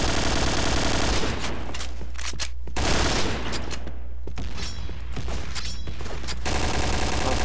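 Rapid, loud automatic gunfire from the Point Blank online shooter game comes in dense sustained bursts with a couple of short gaps, continuous and close, with no talk over it.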